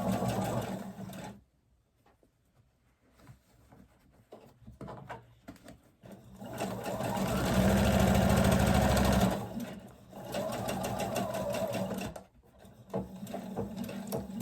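A sewing machine stitches a fabric face mask in close, mechanical whirring runs: a short burst at the start, a long steady run in the middle, then a few quicker stop-start bursts.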